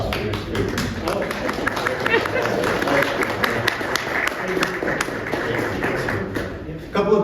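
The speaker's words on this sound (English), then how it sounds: "I'm supposed to say now a round of applause for your speaker." A lecture audience gives a round of applause for a World War II talk speaker, a dense steady clapping that fills the room for several seconds before fading at the end.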